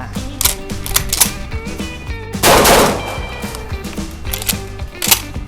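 Rapid volleys of Saricam shotgun blasts at a shooting session, sharp repeated reports with mechanical clatter between them, loud and close throughout, one denser burst of noise near the middle.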